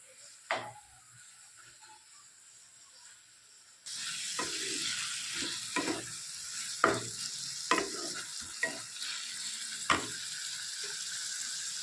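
Chhana dropped into tomato masala for a vegetarian chhanar dalna: quiet at first, then a sudden loud sizzle that stays steady, broken by repeated spatula stirs and knocks against the pan.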